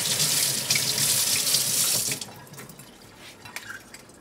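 Running water from a kitchen tap pours loudly over a large green onion being washed for spicy seafood noodle soup, then cuts off halfway, leaving faint drips, splashes and handling noises close by.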